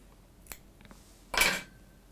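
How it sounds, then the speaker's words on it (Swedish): Small scissors snip off waste material at a fly-tying bench: two or three light, quick clicks, then one louder, crisp cut, all close by in a quiet room. "Klipper jag bort skräpet."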